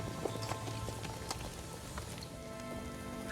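Rain falls steadily at night in the Amazon jungle, a soft, continuous patter of drops on surfaces with scattered louder taps, fairly faint and even throughout.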